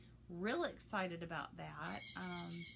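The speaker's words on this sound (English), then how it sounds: "Sorry my birds are so on today." Pet birds squawking and calling indoors in a home, several harsh, rising, drawn-out calls close to the microphone, with someone speaking briefly over them.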